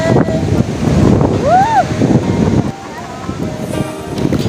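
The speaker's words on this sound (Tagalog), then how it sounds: "ganyan yung condition ng dagat at 6 a.m. Medyo maalon at saka umaambon ngayon" Rough morning sea at Boracay beach, with waves breaking and strong wind buffeting the microphone in a steady loud wash while voices and shouts carry over it.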